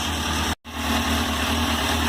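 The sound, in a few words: 2001 Suzuki GSX-R 600 motorcycle engine idling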